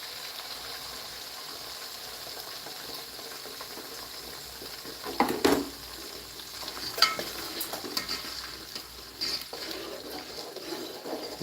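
Beaten egg poured into a hot pan for homemade egg fried rice, with a faint low hiss that jumps into a brief sizzle midway, followed by scattered stirring scrapes.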